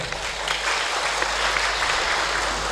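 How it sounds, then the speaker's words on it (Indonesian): An audience claps at an Islamic halal bi halal gathering and installation ceremony for a Nahdlatul Ulama branch in Kendal, a loud, dense, continuous burst of applause filling the hall. "Tepuk tangan untuk dia."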